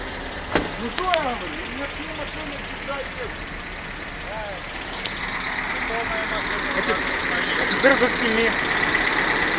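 A GAZelle van engine fitted with VAZ electronic ignition idles steadily at about 1000 rpm, a continuous close mechanical drone running throughout while people talk over it.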